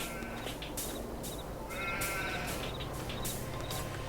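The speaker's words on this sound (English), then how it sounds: "let's just have a little quick look at the animals. Sheep, large. Sheep." Sheep bleat in the Farming Simulator 22 video game, several repeated calls over a steady farm ambience, fairly close and clear with no talking.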